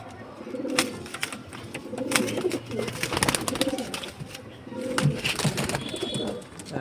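Pet pigeons, including Andra and Malbai breeds, coo softly and repeatedly at close range in a home loft, with intermittent clicks and rustling between the calls.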